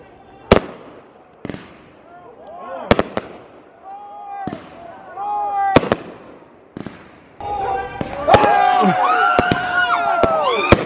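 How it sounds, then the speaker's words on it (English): Fireworks burst outdoors in a string of sharp, loud bangs at irregular intervals, with whistling and crackling between them. Voices can be heard throughout, and the final seconds become a denser, louder barrage. "we're gonna show y'all the fireworks soon."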